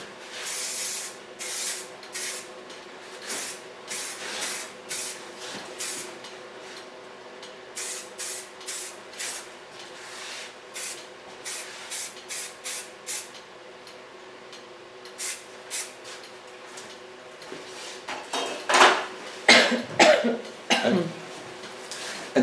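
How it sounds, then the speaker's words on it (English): Lanza ultra fine hairspray sprays in a run of short hissing bursts, many in quick succession, loud and close, with a few sharper bursts near the end during a bob haircut styling. "Take an ultra fine hairspray."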